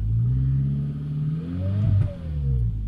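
An Audi TT 8N with a 1.8T engine and a failing turbo revs close by, climbing in pitch and dropping back in one rough, strained rev, running alone without talk.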